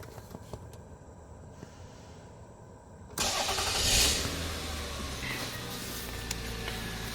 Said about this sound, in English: You can continue with starting up the vehicle, which we will do right now.